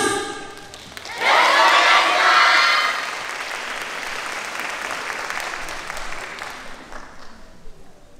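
A crowd at a YOSAKOI dance festival in Hikone, Japan bursts into loud applause with some cheering as a university team takes the stage, swelling quickly then settling into steady clapping that slowly fades out.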